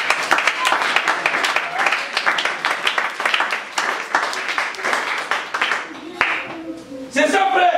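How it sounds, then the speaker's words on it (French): A congregation at a church conference claps in a fast, steady rhythm, loud and close, with voices mixed in and the clapping thinning out toward the end. "Ça mérite des applaudissements"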